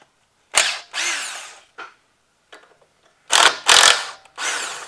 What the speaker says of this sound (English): going to take the bolts out, take these brackets loose, just to give us enough play